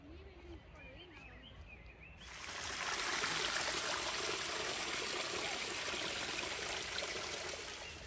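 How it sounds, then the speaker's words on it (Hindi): A waterfall near Gangtok, Sikkim rushes in a loud, continuous broadband roar that swells in after a few seconds of voices speaking and then holds steady nearby. "यहाँ पे वाटरफॉल भी है"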